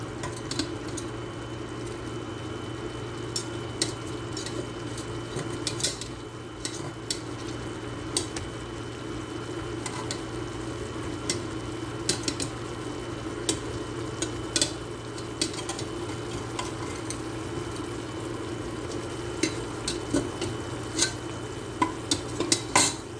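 Chicken pieces are stirred in a pot for Arabic-style biryani rice, giving a steady close sizzle with a spoon scraping and stirring throughout and occasional utensil clinks.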